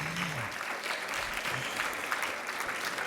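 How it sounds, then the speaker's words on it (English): An audience at an anti-corruption panel talk gives its speakers a round of applause, a steady even patter of many hands clapping at a faint level without voices. "I think my speakers deserve a round of applause"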